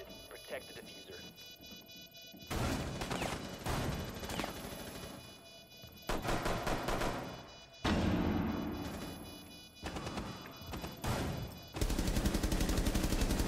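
Gunfire in Rainbow Six Siege during a bomb-defuse round comes in loud bursts of rapid shots and automatic fire, separated by short quieter gaps, with players talking over the action.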